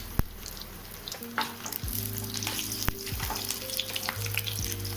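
Garlic, ginger and green chili drop into hot oil and burst into a loud, close sizzle. The hiss keeps going as a spoon stirs and scrapes the pan, and no one speaks.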